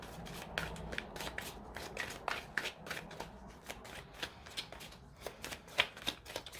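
Tarot and oracle cards shuffled by hand, a continuous close run of papery riffles, taps and slides with sharp flicks scattered throughout, moderately quiet.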